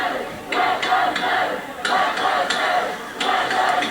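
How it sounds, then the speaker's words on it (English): Protest crowd in Minneapolis chanting Black Lives Matter after the George Floyd murder, rhythmic bursts of many voices repeating in waves, fairly loud and slightly distant, with no other noise standing out. "You can hear a lot of chanting going on."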